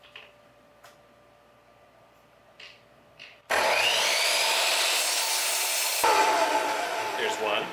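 Wooden frame rails for a theatre flat being cut, a loud continuous rasping saw that starts abruptly after a few quiet seconds of light handling knocks and then runs steadily to the end, close and dominant.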